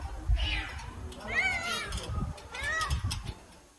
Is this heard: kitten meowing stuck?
yes